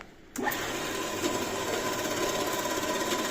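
A power saw starts abruptly after a moment of quiet and runs at a steady, loud, buzzing whine, cutting continuously up close.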